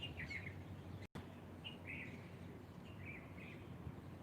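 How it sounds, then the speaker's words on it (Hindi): Birds chirp and sing outdoors in a calm natural setting, several short bright calls repeating at intervals over a steady low background hum, fairly faint and without voices. "पक्षियों की मधुर आवाज़"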